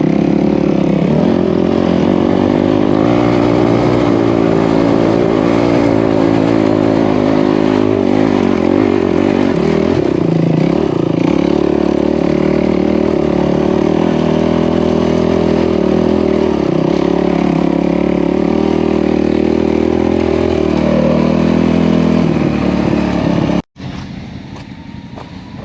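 A turbocharged Honda Talon side-by-side drives off road at Wild Cat Off Road Park in Kentucky. Its engine drones loud and close for the whole run, rising and falling with the throttle, then cuts off abruptly near the end.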